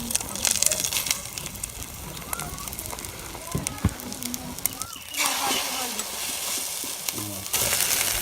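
A Maggi noodle and egg omelette sizzles as it fries in a pan, a steady crackle with bursts of louder frying, while a voice talks over it.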